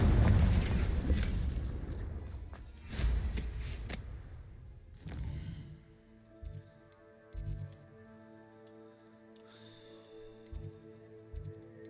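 Confringo fire-blast spell cast in a wizarding video game: a loud, rumbling explosive burst up front with crackling debris, fading into softer thuds and a lighter ambient game score.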